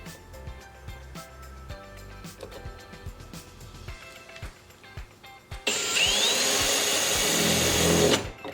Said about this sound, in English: we're gonna take our time and we're gonna slowly drill this out so we don't mess it